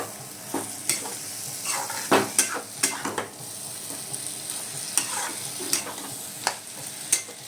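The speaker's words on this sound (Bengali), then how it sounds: "এই যে ভাজা আলুটা দেওয়া হয়ে গেল। এবার আমি কষছি।" Fried potatoes sauté in a pan with a continuous sizzle, punctuated by sharp scrapes and clanks of a utensil stirring against the metal, close and without talk.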